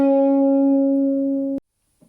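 Electric guitar note from a riff, a loud, clean sustained tone that holds steady and then is abruptly muted, leaving brief silence and a faint noise.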